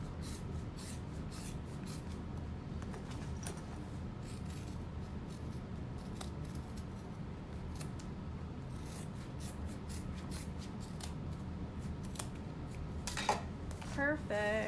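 Scissors trim excess fabric away from a handbag's exterior panel: soft, quiet snipping and rustling that ends in a few clearer, sharper cuts.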